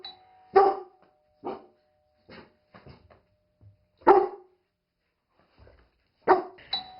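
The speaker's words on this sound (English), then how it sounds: "Alert barking is great as it lets us know when someone is at the door." A dog gives sharp alert barks in separate short bursts after a doorbell chimes, loud and close in a quiet room, with gaps of silence between the barks.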